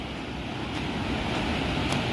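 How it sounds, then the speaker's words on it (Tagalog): Strong floodwater current rushes past a bridge, a steady loud broadband roar mixed with wind buffeting, continuous and unbroken with no voices. "lakas ng agos."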